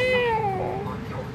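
A cat monster in the Summoners War video game gives a loud, close meow that slides downward in pitch, heard clearly on its own.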